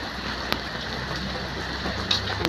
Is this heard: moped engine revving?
no